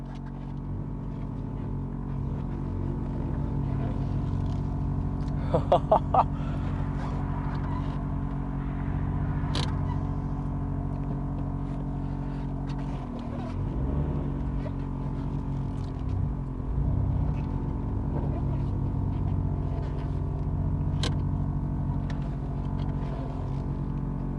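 A widebody Alfa Romeo Giulietta runs at low speed, its engine a steady low rumble and drone heard from inside the car throughout, with a few brief clicks and knocks and slight shifts in engine note, no talking.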